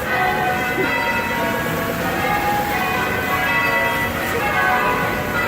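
Dense ringing of church bells, rung by one ringer per bell, fills the air continuously, a full steady peal with overlapping tones and a crowd murmuring faintly beneath.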